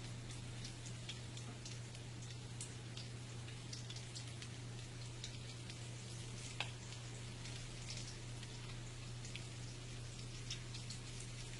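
Besan pakoras sizzling in hot oil, a steady dense crackle of tiny pops and ticks running evenly throughout, fairly quiet with a constant low hum beneath.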